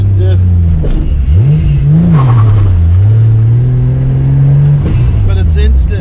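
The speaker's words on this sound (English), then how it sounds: "Yeah, this car's got a freaking noisy diff." A Toyota Supra MK4 with a noisy differential drives close by, its engine droning steadily and swelling as the throttle is touched, with a whining note over the drone. A person talks over it.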